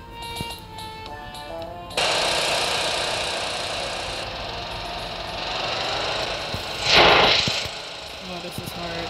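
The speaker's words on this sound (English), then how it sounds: "And let's drive on out of here. I saw a motorcycle over here." A motorcycle engine in the video game High School Simulator 2018, a loud steady droning hum that holds for several seconds, with a brief whooshing surge near the end.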